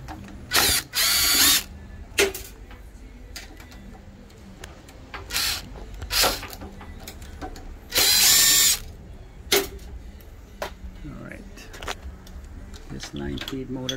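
A power driver backs screws out of the line feed motor on an Oki Pacemark 3410 printer, several short loud whirring bursts close by, separated by clicks, handling noises and someone talking in between.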